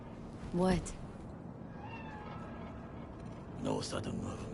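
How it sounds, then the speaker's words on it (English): A cat meows twice in the video game Cyberpunk, once early and again near the end, each a short, fairly clear call over a quiet ambient hum. "Do you see it? That cat?"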